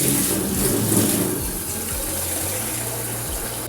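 Cold tap water runs steadily into a kitchen pot after the hot water is drained off, a close, continuous splashing rush with a low hum underneath.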